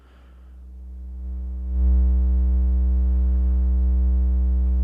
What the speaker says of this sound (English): let's just listen to that triangle wave